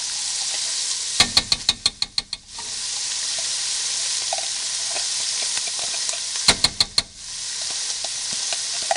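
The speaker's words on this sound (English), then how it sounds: "now we're going to fry in our tomato paste with that garlic" Tomato paste and garlic sizzle with seasoned meat in a hot pan, a steady loud hiss broken twice by quick runs of scraping stirs, close and with no talking.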